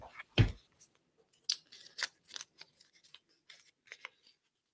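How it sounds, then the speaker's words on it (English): A hand rummages through paper name slips in a bucket to draw one, giving close, quiet crinkles and rustles in short scattered bursts after an initial louder handling thump. "So I'm going to reach in here and draw a name."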